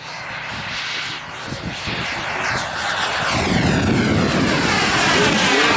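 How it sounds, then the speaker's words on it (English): A Panther aircraft roars overhead at a warbirds and classics air show in Michigan, its engine loud and near, the sound swelling and sweeping in pitch as the plane passes, with no voices. "This aircraft moments ago was clocked at 107 miles per hour."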